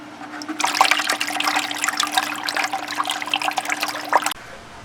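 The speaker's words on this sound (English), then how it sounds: "I can begin to hear the impeller is chattering" A small aquarium water pump for a jellyfish breeding tank, its outlet blocked by a finger, gives a steady rushing, chattering water noise for about four seconds before cutting back to a quiet hum.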